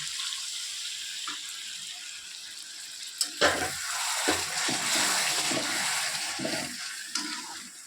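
A small splash of water hits a hot pan of pangas fish in yogurt sauce, turning a quiet sizzle into a loud, rushing hiss that then settles into bubbling with a few spoon knocks.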